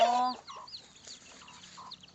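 A loud opening squawk, then several soft, scattered clucks from chickens nearby, fading into quiet murmurs.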